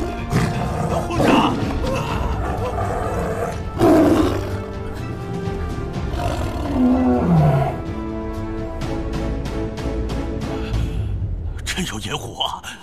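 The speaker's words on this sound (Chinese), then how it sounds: "听闻一声虎声" A tiger roars in a mountain forest setting of a Chinese historical drama, with two loud, rumbling roars standing out over a dense background of dramatic score.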